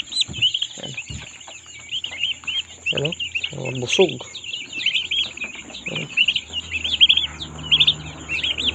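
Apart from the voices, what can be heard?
young turkeys and guinea fowl chirping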